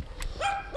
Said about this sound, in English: What's that doggy barking at me for?